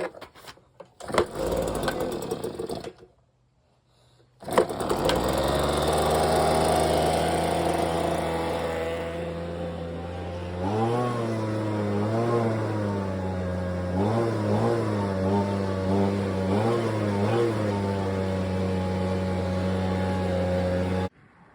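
Ryobi gas leaf blower engine sputters briefly, cuts out, then starts and runs with a loud steady drone, its pitch rising and dipping several times as it revs; close and alone.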